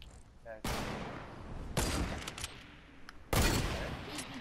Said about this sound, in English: I'm getting sniped by another kid